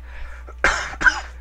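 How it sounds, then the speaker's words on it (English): Two harsh, close coughs in quick succession from a person, loud and abrupt against a quiet background hum. "So, got a cough."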